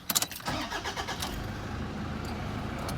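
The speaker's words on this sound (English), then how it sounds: "Okay, I'll just turn the car on." A Toyota Hilux with a 3-litre diesel engine and 5-speed manual starts up: a brief clattering crank, then the engine catches and settles into a steady, close idle.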